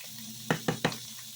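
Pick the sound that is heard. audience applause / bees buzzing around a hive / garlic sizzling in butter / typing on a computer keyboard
garlic sizzling in butter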